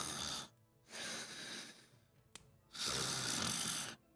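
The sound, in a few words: voice imitating snoring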